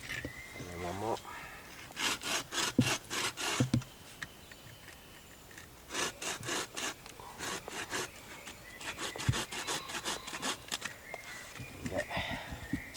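Hand saw cutting notches into a wooden stick for a bushcraft pot hanger outdoors, heard as repeated bursts of close, rasping back-and-forth strokes separated by short pauses, with a few quiet spoken words.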